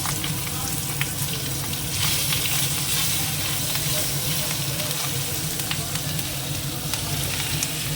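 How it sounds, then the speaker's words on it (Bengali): A hilsa fish head fries loudly with green chillies, a dense and constant sizzle and spatter with a low background hum throughout. "মাথাটা ভাজা হয়ে গেছে ইলিশ মাছে দিয়ে দিলাম কাঁচা লঙ্কা"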